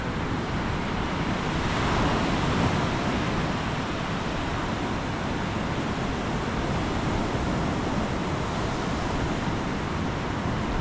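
Surf rolls steadily onto a foggy winter beach at Nags Head in the Outer Banks, North Carolina, a continuous broadband wash of waves with some wind, unbroken and with no voices.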